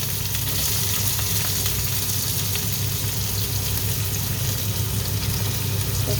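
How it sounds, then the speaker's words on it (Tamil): Onions dropped into hot tempering oil while cooking beef, a loud, steady sizzle and crackle running without pause, with a low rumbling hum beneath. "அது தாளிச்சு போட்டு வெங்காயத்தை போடுவோம்."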